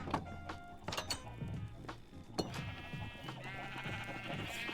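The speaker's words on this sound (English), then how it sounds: "Stinky sheep!" Minecraft sheep bleat several times in a busy game soundscape, the short wavering calls rising over layered background noise and clicks, fairly close.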